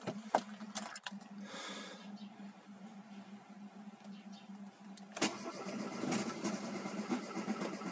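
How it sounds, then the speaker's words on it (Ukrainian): A car engine cranks and fires up, then settles into a steady mid-pitched idle. The sound is close and runs without any talking. "Машинку завів"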